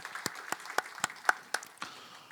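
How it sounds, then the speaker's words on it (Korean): A church congregation claps together in a burst of sharp, scattered applause at a Sunday worship service, the claps loud and close, then thinning out over a couple of seconds, with no talking. "우리 하나님께 영광의 박수 한번 올려드리도록 하겠습니다"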